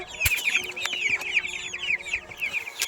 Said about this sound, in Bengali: এই যে এটা আমাদের মুরগির ঘর